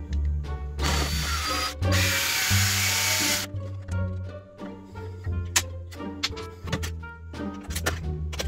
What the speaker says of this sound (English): I'm gonna do it with a drill.